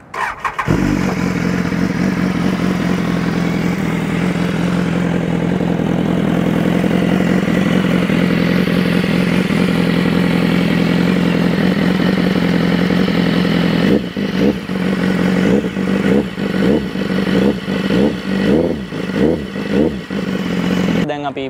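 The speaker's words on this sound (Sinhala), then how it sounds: "අපි පොඩි රවුමක් යමු බයික් එකේ." A 2016 BMW S1000RR Celebration Edition sport bike idles steadily up close with a dense, loud engine drone, then from about 14 seconds gives a series of rhythmic throttle blips and revs.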